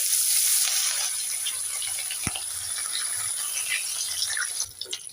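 Fish sizzling as it fries in hot oil, a steady bright hiss with faint crackles and one sharp clatter midway, the frying fading slightly near the end.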